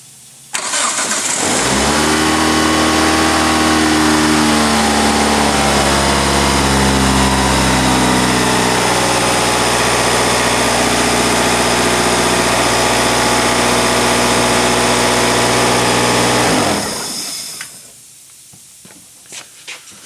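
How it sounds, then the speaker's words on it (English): Hyundai car engine cranking and catching after a crank sensor replacement, then settling into a steady, loud idle heard close up for about fifteen seconds before being switched off, with no talking. "We're going to start the car."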